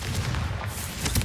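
A Confringo fire spell cast in Hogwarts Legacy, a deep booming blast with a rumbling low end, loud and close, over about a second.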